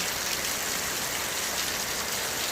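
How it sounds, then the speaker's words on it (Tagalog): Heavy rain falls in San Fernando City, La Union, a dense, steady hiss of water pouring onto surfaces with no pauses, even and fairly soft at this distance. "Malakas lang talaga ang ulan."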